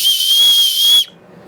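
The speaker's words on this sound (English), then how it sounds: "survival whistle. It's actually pretty loud." A survival whistle shrieks loudly and piercingly for about a second in one sustained blast, then cuts off into quiet.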